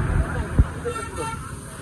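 A car on the Tamhini Ghat road gives one short toot of its horn as it passes, set against road and engine noise.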